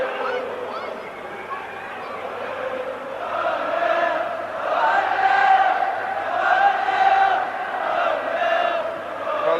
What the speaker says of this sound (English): If the crowd came to pay tribute to Brazil, they are now right behind Wales.